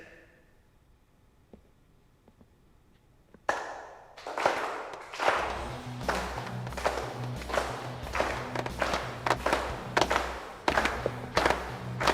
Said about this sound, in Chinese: 现在大家一起鼓掌